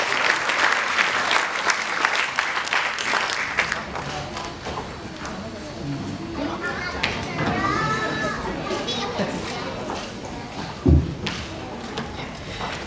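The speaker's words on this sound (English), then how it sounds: "Let's give the parents another round of applause." Audience applause for parents at a children's graduation ceremony at a playhouse, with children's voices and chatter mixed in across the crowd.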